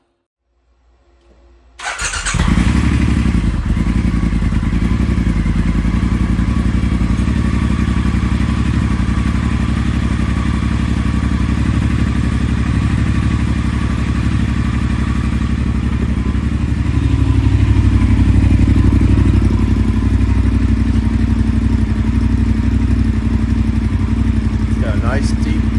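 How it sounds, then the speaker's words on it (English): A Triumph Thruxton motorcycle fires up and settles into a steady deep, throaty idle, loud and close, with a slight rise in revs late on and no talk over it. "Nice deep throaty noise, or nice deep throaty sound to it"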